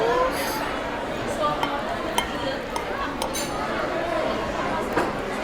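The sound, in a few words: cutting open an Impossible meatball with cutlery on a plate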